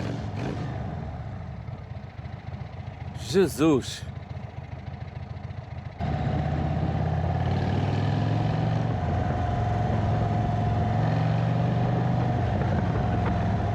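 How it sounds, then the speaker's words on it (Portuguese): A custom-built motorcycle's exhaust runs steadily at idle for most of the clip, with a brief rise in engine note partway through and a man exclaiming over it. "Eu não sei se vocês conseguem ouvir este escape."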